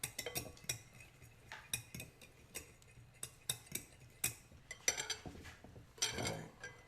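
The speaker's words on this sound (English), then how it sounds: "I'm going to use a fork to mix it up. With a whisk." A whisk clinks and scrapes against a bowl while spring roll ingredients are mixed, producing quiet, irregular metallic taps and rattles close by.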